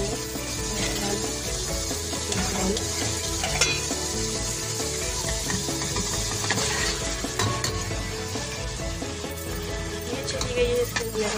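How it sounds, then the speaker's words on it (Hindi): Achari macaroni with shredded boiled chicken fries and is stirred in a pan, giving a continuous close sizzle with spoon scrapes and clinks throughout, without talk. "ये चली गई है इसके अंदर, हम मिक्स कर लेंगे अच्छे से"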